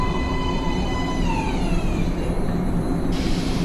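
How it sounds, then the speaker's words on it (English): Train pulling into an underground station platform in the video game Metro Last Light, a steady loud rumble with descending squealing brake tones, then a burst of hiss near the end. "Train coming in."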